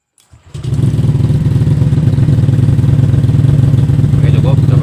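A Vario motorcycle with a keyless ignition fault starts up after a brief starter whir, then settles into a steady, loud, close idle with an even rhythmic throb.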